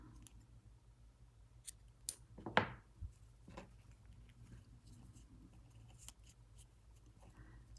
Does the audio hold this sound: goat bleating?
no